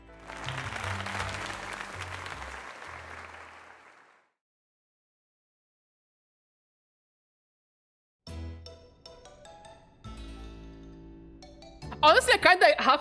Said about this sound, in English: let us give another heartfelt round of applause to Badger.